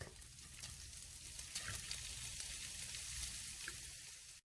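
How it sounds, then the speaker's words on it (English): Vegan walnut taco meat sizzles and fries steadily in a skillet with grapeseed oil, a continuous, close crackling hiss with occasional small pops. "Now you're going to add it to your skillet and let it cook."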